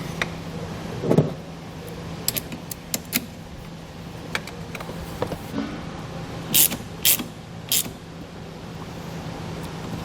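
A nut is tightened onto a ring terminal stud while a trailer wiring harness is installed on a 2016 Mitsubishi. Faint scattered ticks and clicks sound close by over a steady low hum, with no talking.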